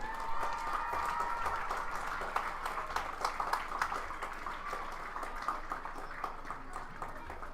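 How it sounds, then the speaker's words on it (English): Steady applause and clapping from a crowd at a high school homecoming football game, a continuous wash of hands sustained throughout with a faint voice underneath. "Let's give another round of applause for all of our candidates, our Princess and Prince, and Queen and King."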